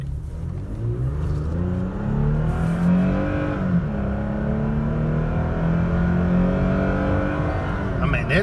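A 2019 Toyota Tacoma TRD Sport pickup with a V6 engine accelerating hard, heard from inside the cab as a smooth, rising engine drone that climbs steadily in pitch and stays loud and close.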